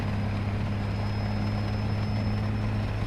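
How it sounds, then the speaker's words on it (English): A helicopter in the War Thunder video game thrums with a steady, unbroken rotor drone and low engine hum, loud and constant throughout with a thin high whine above. "Helicopters are neat."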